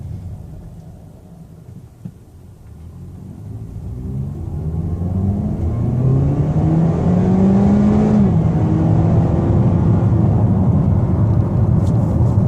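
A 2014 Chevy Malibu accelerating up to about 45 mph, its engine note rising steadily in pitch with a broad road and tire rumble that builds louder, heard from inside the car without talk.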